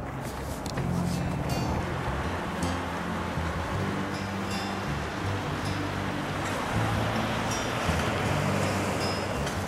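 Ocean surf washes steadily below the rocky cliffs at Kennebunkport, Maine, a continuous near roar of breaking waves with wind buffeting the microphone and low voices murmuring underneath.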